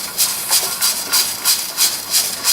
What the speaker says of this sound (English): What we've got here is the rocker still rocking.